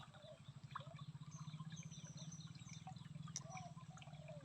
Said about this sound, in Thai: ถ้าฟังเสียงลำธารน้ำไหล